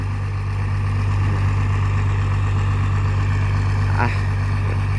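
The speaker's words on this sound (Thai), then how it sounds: "เพิ่มกำลังเร่งเครื่องมาอีกนิดหนึ่ง" A small water pump engine runs steadily close by, a low, even mechanical drone with a constant hum and no pauses.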